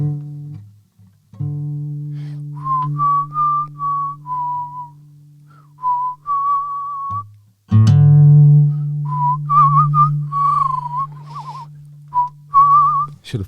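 Someone whistles a slow, wavering melody in short phrases over a sustained low bass drone, with a brief gap and a stronger second entry.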